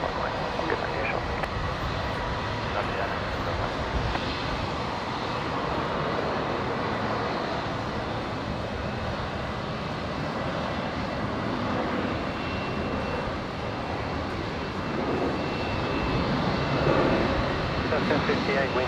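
An airliner takes off from runway 19 left at Brisbane International Airport, its engines producing a sustained, broad roar that holds steady and swells slightly near the end.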